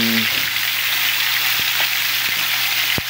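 Bitter gourd (ampalaya) dropped into a hot pan for ginisang ampalaya, a steady loud hissing sizzle filling the scene with a few faint knocks and a low hum underneath.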